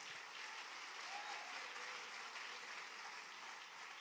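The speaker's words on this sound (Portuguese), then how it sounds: "Pode aplaudir a Jesus." A church congregation at an evening worship service applauds, producing a dense, steady wash of clapping that stays even throughout, heard from within the crowd with no voices standing out.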